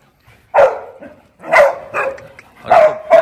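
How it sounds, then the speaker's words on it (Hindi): A dog barks in three loud, sharp bursts spaced about a second apart, close by, with brief whiny tails between them and no talking. "आदत है इसके ऐसे भौंकने की"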